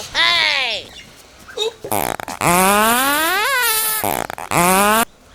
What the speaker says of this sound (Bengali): আমার পাদের কোনো কোয়ালিটি নাই